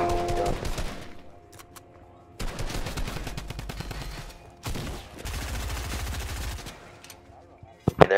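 Drum gun fire in a Fortnite arena match, with rapid automatic bursts in three long stretches separated by short pauses, loud and close over game ambience.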